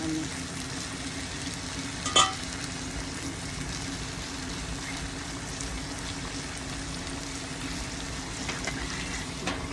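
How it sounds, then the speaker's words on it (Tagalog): Hot cooking oil crackling and splattering as green vegetables fry, a dense continuous sizzle with scattered pops and one sharper spatter, close and steady throughout. "mga talsik ng mantika"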